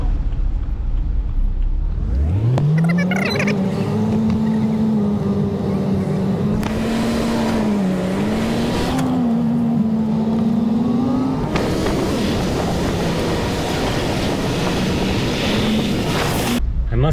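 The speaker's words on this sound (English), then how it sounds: "everybody started the vehicles" Vehicles and trucks starting and pulling away inside the hold of a Bari to Igumenitsa ferry, one engine firing up and revving with a rising, wavering drone over a loud, echoing rumble of other motors.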